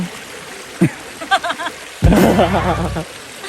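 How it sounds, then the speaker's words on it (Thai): A stream in the forest near Surat Thani, Thailand, flows with a steady broadband rush, heard nearby beneath brief voices and a louder burst of talk partway through. "มันเป็นลำธารนะ มันไม่ใช่น้ำตก"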